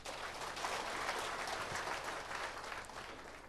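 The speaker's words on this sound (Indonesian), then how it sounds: "Tepuk tangan bagi Tuhan Yesus." A church congregation applauds, a dense steady wash of clapping from many hands that fills the room for a few seconds, with faint voices mixed in.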